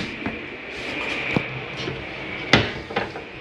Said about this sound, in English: I'm going to put this in a drawer